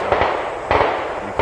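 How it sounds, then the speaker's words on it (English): Gunshots from a shooting range close to a dune and swale nature preserve in Northwest Indiana crack out as three quick, fairly loud reports, each with a rolling outdoor echo. "we're just noticing that there's a lot of gunshots that you can hear."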